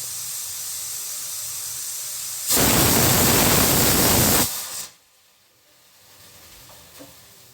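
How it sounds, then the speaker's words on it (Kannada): A pressure cooker steaming sweetcorn lets out one loud, steady burst of hissing steam lasting about two seconds, then cuts off abruptly, leaving only low kitchen background; no one speaks. "ಕುಕ್ಕರ್ ಒಂದು ಸಲನಾದರೂ ಕೂಗಿದ್ರೂ ಓಕೆ ಎರಡು ಸಲನಾದರೂ ಕೂಗಿದ್ರೂ ಓಕೆ"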